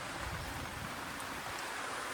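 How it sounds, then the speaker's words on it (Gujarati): Heavy monsoon rain falling steadily, a dense continuous hiss without pause, loud and close, with no voices. "ખતરનાક વરસાદ ચાલુ છે."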